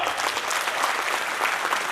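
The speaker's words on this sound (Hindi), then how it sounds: "ताली बनती है साहब" Audience applause at a district cabinet installation ceremony, a steady dense wash of many hands clapping continuously and fairly loud throughout.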